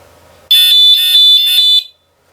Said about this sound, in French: là maintenant on va la faire sonner pour que vous voyez un petit peu quand même le boucan que ça fait